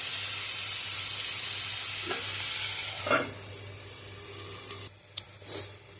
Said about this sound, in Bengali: এদিকে গাজর, বিনস, পেঁয়াজ ওইটা ভাজা হোক